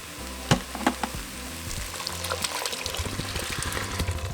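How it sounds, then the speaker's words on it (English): Broth poured into a pot of cooked ground meat for caldo de picadillo, with a few sharp splashes and clinks at first, then a sizzling, bubbling pour that continues steadily up close. "So now we're going to add our broth."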